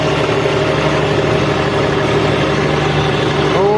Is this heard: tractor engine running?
yes